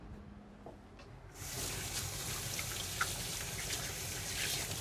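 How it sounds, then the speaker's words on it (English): Kitchen tap water suddenly starts running during handwashing and keeps streaming steadily and fairly loudly after a quiet opening. "Chef Susie is going to take a minute to wash her hands"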